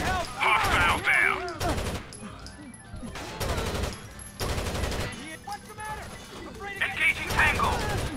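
Rapid gunfire in the shooter game Tom Clancy's Rainbow Six Vegas on PC, dense automatic bursts and sharp shots filling the whole stretch, loud and continuous, with voices talking over it.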